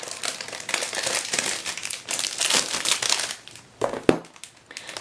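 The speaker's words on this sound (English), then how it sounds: "Again, we'll take the plastic off." Plastic wrap crinkles and crumples loudly as it is peeled off a thick journal, a close, busy rustling that rises and falls in bursts and ends with a few sharper crackles.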